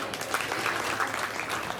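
Crowd applauding the youth lamb show class at a county fair, soft, steady clapping from a distance that carries on evenly throughout.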